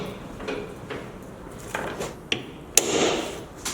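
Light taps on a Jeep Wrangler soft top bracket being fitted into place, a few scattered metallic knocks and clicks, close and fairly quiet, ending in one sharper strike with a short ring.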